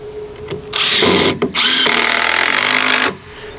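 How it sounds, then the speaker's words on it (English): A power drill drives screws into the wooden wall of a barn-style doghouse, whining loudly in two close bursts with a brief pause between, alone without talk. "throw us a couple screws in it"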